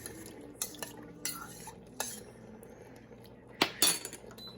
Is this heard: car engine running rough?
no